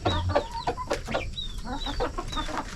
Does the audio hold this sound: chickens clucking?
yes